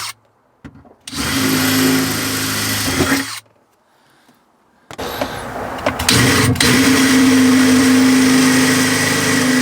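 A power drill with a 4mm bit bores into the exhaust of a Land Rover Freelander 2 in loud, sustained bursts: one run of a couple of seconds, a pause, then a longer continuous drilling run, close up.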